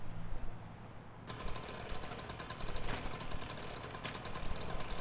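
A steady mechanical whirring drone of a spinning saw blade in a car crash video game kicks in abruptly and keeps going, buzzing and rattling, moderately loud with no talking.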